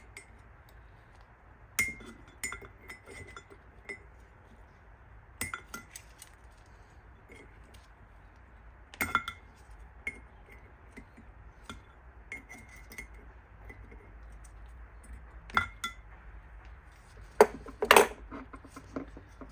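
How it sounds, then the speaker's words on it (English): Pliers working at a metal flange on a Toyota FJ40 Land Cruiser during an oil-leak seal repair give sparse, close metallic clinks and taps scattered over a quiet background, with a sharper cluster of clanks near the end. "we're going to attack it with some pliers first"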